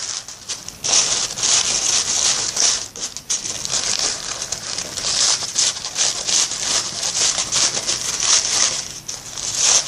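Tissue paper being gently lifted and fluffed to form a paper flower gives continuous close, crisp crinkling and rustling with brief pauses, and no talk.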